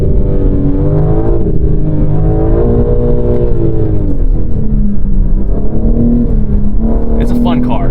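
2022 BMW M3 Competition xDrive with its engine pulling hard under throttle, a loud, close, rising and falling engine drone with shifting harmonics through the whole stretch.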